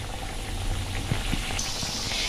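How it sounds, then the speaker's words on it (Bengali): A dense, steady hiss and bubbling of oil as a Mughlai paratha fries close by in hot oil, with a couple of soft knocks partway through. "আস্তে করে ছাড়বেন যাতে না গায়ে তেলটা ছিটকায়"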